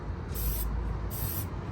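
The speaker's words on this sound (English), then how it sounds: "so we're gonna spray these down and show you what that looks like" Cleaner sprayed onto a K&N air filter for a Ford Bronco or Jeep Gladiator, two short hissing bursts from a spray bottle up close, separated by a brief pause, over low background noise.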